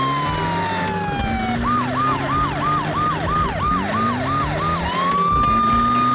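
A cartoon police car siren wails close and loud, a rising tone breaking into a rapid repeated yelp pattern before settling into a long steady high tone, over a constant engine hum.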